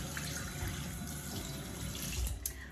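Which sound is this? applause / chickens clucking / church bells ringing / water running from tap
water running from tap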